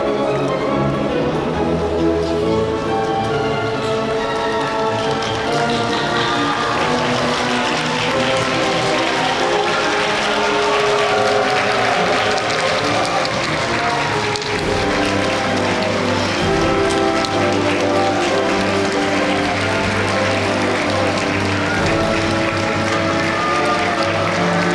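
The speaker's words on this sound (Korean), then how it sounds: "신입생 여러분은 자리에서 일어나 큰 박수로 맞이해 주시기 바랍니다" A seated-then-standing audience at the 2019 POSTECH university matriculation ceremony applauds as the faculty procession enters behind a mace, a dense, sustained wash of clapping lasting the whole stretch, with steady tonal sounds beneath it.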